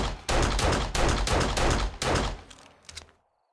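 Dense, loud volleys of gunfire in 7 Days to Die, sustained and heavy, with short breaks between bursts and a few scattered shots before it cuts off.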